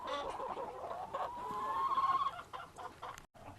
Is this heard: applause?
no